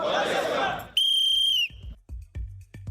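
A single loud, sustained whistle blast at a gendarmerie school mealtime, preceded by a crowd's murmur and followed by clattering thumps of basins and footsteps.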